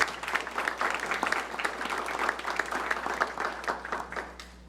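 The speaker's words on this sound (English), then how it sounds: "If we could give him a round of applause" Audience applause at a community forum, steady moderate clapping from a modest crowd in a room over a low hum, fading out toward the end.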